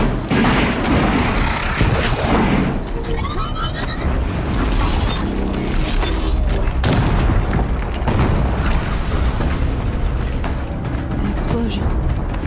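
Heavy booms and crackling blasts fill a machine battle in Horizon Zero Dawn, dense and loud throughout with layered game noise and intermittent talk.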